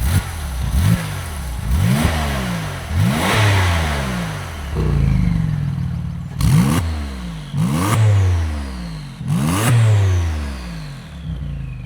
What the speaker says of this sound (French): mets-nous deux petits coups de gaz